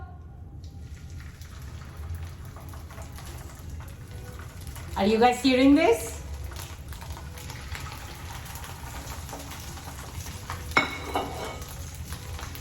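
A soft, steady sizzle of sea bass frying in a hot pan runs throughout, with a person speaking briefly in the middle and some clattering.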